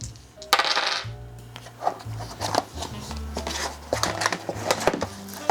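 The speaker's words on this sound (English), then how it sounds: "These are Blackout playing cards and dice. These are metal dice," Metal dice clatter and click as they are handled, with sharp close taps and rattles over low background hum and no talk.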